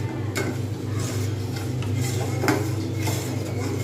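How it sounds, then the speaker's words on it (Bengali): A spoon stirs semolina payesh sweetened with new jaggery in a pot over medium heat. Soft repeated scrapes and light clinks sit over a steady low background hum, with no talking. "আমি এভাবে কিন্তু কন্টিনিউ নাড়তে থাকবো"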